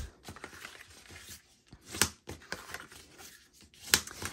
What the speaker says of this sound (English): now we're gonna burnish these lines with our bone folder